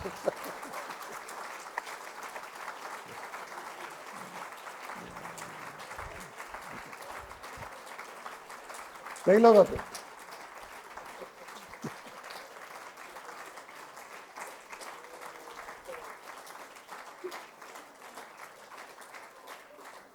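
Audience clapping at a spiritual retreat in Bangalore, a steady moderate patter of many hands under a brief spoken phrase, with a short louder burst in the middle.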